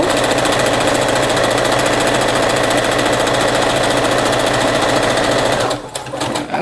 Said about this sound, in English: This is called chain sewing, so you're just gonna keep sewing them all and then come in the other direction and sew the rest of it.